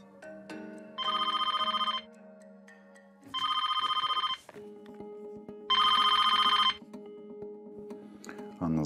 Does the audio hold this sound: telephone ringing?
yes